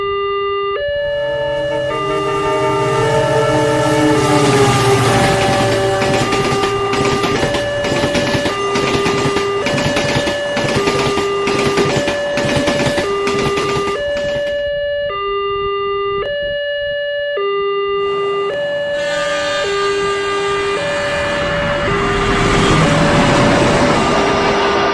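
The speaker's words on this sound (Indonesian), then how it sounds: "di depan ada perlintasan kereta api di jalur arah hutan, jadi mohon bersabar sehingga kereta selesai melintas" A train passes a railway crossing in a forest while loud two-tone crossing bells alternate steadily throughout, with a rumbling, hissing wash of the passing train in the middle and no talk.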